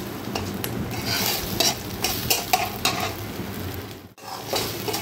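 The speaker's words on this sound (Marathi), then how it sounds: "एक अर्धा मिनिट आपण ही पेस्ट पण अशी परतणार आहोत।" Ginger garlic paste sizzles in a hot pan while a spoon scrapes and stirs it in repeated close strokes, with brief metallic clinks and a short pause near the end.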